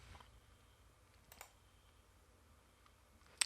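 Quiet, sparse key taps on a computer keyboard while typing a word into a QuickBooks report header, a few faint clicks with one sharper tap at the end, no talk.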